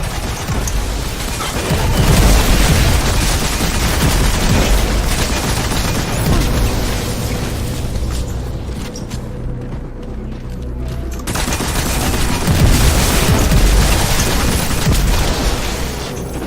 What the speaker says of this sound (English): Okay, we'll shoot them.